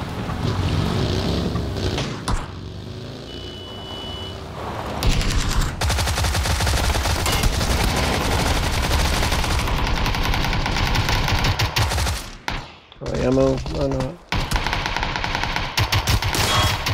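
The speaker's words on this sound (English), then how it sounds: "Got somebody shooting at us, trying to engage us from behind." Bursts of machine gun fire in a shooter video game, loud and close, with rapid repeated shots layered over a dense rumble and short drops to near silence, no speech.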